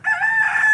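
A rooster gives one short, clear crow close by, alone with no talk.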